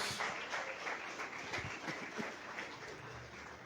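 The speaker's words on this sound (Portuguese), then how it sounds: "Mais uma salva de palmas para Jesus." A church congregation at a Sunday service claps for Jesus, a faint, distant wash of steady applause with a few sharper claps, heard alone in a large hall.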